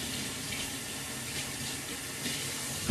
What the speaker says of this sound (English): I'm going to wash my hands off again.